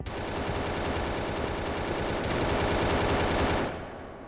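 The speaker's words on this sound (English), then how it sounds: "And you can also shoot the turret." A gun in a Unity first-person shooter video game fires on a turret in one unbroken, rapid automatic burst that lasts about three and a half seconds, loud and close, then cuts off abruptly.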